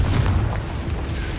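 A Confringo spell detonates in Hogwarts Legacy, a deep, loud booming blast with rumbling low end that holds steady for about a second and a half without fading.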